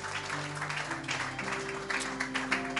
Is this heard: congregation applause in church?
yes